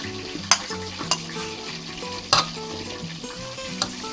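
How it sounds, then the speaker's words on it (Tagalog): Pork sisig fries in a pan as soy sauce goes in, a soft continuous sizzle broken by several sharp stirring scrapes and clacks of a utensil against the pan, no voices. "dahil natanggal na po ang pagdidikit ng ating pork, pwede ko nang isunod ang ating toyo"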